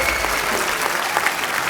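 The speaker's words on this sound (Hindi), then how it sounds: "तालियां जोरदार होनी चाहिए।" A television comedy show's studio audience applauds a Paralympic medal winner, a brief, loud, dense burst of many hands clapping that fills the short stretch evenly.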